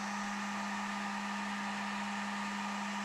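A hot air blower heats and softens a 3D printed plastic letter for a concrete garden sign, giving a continuous steady whooshing roar with a constant tonal hum, close and unbroken throughout.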